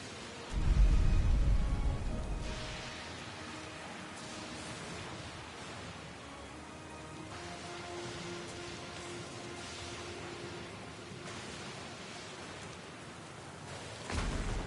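Rain and a rolling storm in the Pillars of Eternity II: Deadfire video game, with a heavy low thunder rumble at the start, then steady rain hiss over a faint droning hum, and another low swell at the very end.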